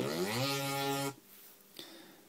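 Synth bass note recreating Nero's Departure, a buzzy, harmonic-rich tone that rises in pitch, sliding up an octave over about one second before cutting off abruptly, followed by near silence and a faint click.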